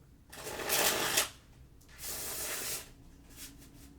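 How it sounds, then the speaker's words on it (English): Tarot cards shuffled in two separate bursts of crisp riffling and fluttering, each lasting under a second, close and fairly quiet in a still room. "So yeah, let me shuffle the tarot cards."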